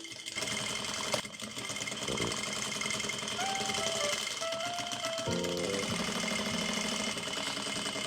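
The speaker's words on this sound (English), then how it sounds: "take our sew-in bones, open up our seam here, lay it over the center of the seam," A sewing machine stitches sew-in bones into the seam of a corset made from caution tape, running steadily and fairly close throughout with brief stop-start changes, over a continuous background of music.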